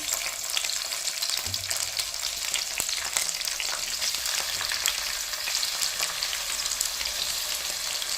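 Whole garlic cloves and tomatoes frying in hot oil in a pan, giving a loud, steady, continuous sizzle with crackling pops throughout, near and without talking.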